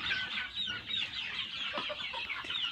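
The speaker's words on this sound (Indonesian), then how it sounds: "Ayam sehat-sehat semua." A flock of healthy chickens clucks continuously at close range, many overlapping calls with busy farm background noise and no speech.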